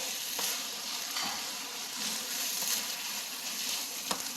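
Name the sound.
stirring glass noodles with chives in a frying pan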